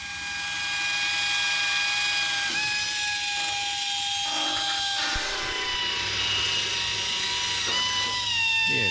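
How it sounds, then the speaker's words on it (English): A power drill bores holes through aircraft skin into a new attach angle behind it, its high whine rising and dropping in pitch across several short bursts, with a shop hum underneath. "drilling some holes through the existing holes in the skin and going through the brand new attach angle on the other side"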